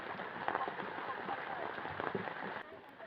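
Rain patters steadily on surfaces outdoors in a forest setting near a well, a soft continuous hiss with scattered drops that thins out near the end.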